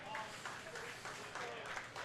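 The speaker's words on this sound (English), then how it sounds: "That round of applause you hear is for that Nutmeg Potomac game" Distant applause from a crowd at a curling bonspiel, soft and continuous, heard with a voice speaking over it.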